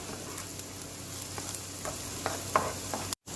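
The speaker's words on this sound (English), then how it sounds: "in a medium-sized wok, I've added 3 tablespoons of vegetable oil and here I have 1 onion chopped. I'm going to saute that." Chopped onion sauteing in three tablespoons of vegetable oil in a medium-sized wok, a steady soft sizzle with faint scraping of stirring, fairly quiet and without talk, cut by a brief dropout near the end.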